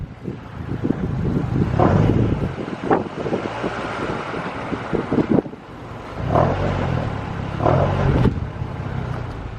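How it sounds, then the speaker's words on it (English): Interior road noise from a Ford Escape on the move, with a slight rattle of uncertain origin mixed into a steady rumble and wind roar, swelling in bursts. "There's a slight rattle and I can't tell what it is."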